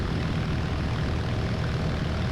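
A light propeller airplane's engine running near full power during a steady climb, a continuous loud broadband roar with no pauses, heard close up from inside or beside the aircraft.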